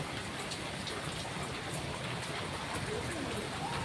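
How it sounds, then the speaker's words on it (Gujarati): Heavy rain with a windstorm pours steadily with a dense, hissing roar, gusts of wind blending into the wash; a voice speaks faintly underneath. "આજે ભારે વરસાદ ને ભારે વરસ વાવાઝોડા સાથે જોઈ શકો છો"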